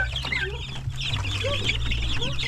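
Young Rhode Island chickens crowded in their coop, a dense chorus of soft clucks and peeps over a steady low hum, close and continuous.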